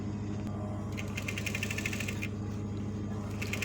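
A sewing machine stitches a garment seam around a sleeve, its fast mechanical rattle running steadily and close throughout, with a brighter clattering stretch in the middle and again near the end.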